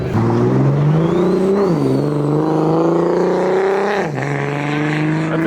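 A modified Porsche GT3 with its exhaust valves open, accelerating hard on a cold road; a loud, close, sustained engine roar rising in pitch through gear changes, with brief dips at shifts.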